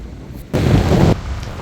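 Strong wind gusts across the microphone at Fort Lauderdale beach in Florida as rain sets in, heard as one loud, broad roaring burst lasting about half a second over a steadier low rush.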